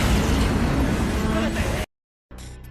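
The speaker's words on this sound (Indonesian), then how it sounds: "meledak dan hampir tenggelam." A loud, booming explosion from cannon fire blasting a warship, a dense roaring burst that runs nearly two seconds, cuts to silence, then returns as a fainter rumble.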